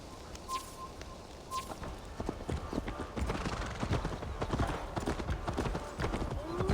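Horse hooves clip-clop in a steady walking rhythm in Assassin's Creed Valhalla, close and fairly soft, with a brief whinny and faint ambient sounds in the background.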